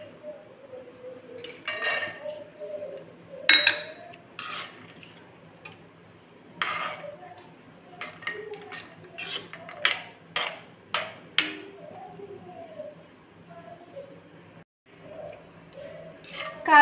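A metal spoon stirs cashews roasting in a pan on low heat, with repeated clinks and scrapes against the pan and faint background voices.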